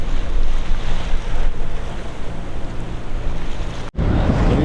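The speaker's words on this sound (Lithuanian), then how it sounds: "čia net verda vanduo. Čia net verda viskas, pažiūrėkit." A strong sea current churns water around a boat in a rough Arctic strait. The rushing and sloshing is loud and continuous, with wind buffeting, and there is a brief dropout near the end. No one speaks.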